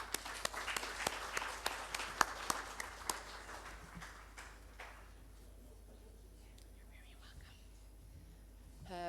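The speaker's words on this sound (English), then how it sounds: "Please join me in welcoming Dr. Jessica Espey under your warm applause." An audience at a conference session applauds to welcome a speaker. Sharp, close claps are busy at first, then thin out and fade after about five seconds into a quiet room with faint shuffling.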